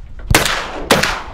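Two loud shotgun blasts during an outdoor duck hunt, about half a second apart, each a sharp close report with a short decaying tail.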